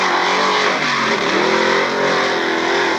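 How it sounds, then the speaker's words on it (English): A mud bog truck engine revs hard and loud at high pitch on a 1994 Lake Odessa, Michigan track, a sustained roaring drone with shifting tones, close and dominating. "That's our man, Bill Grabowski, revving to the max, coming by here, trying to catch him up."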